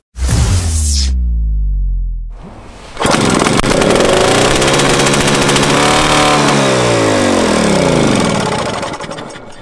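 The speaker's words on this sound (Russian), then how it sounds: "пока Владимир пытается его завести" An old 1969 MTZ-50 Belarus tractor engine cranks and sputters briefly, cuts out, then catches and roars loudly into a steady, rough running drone close by.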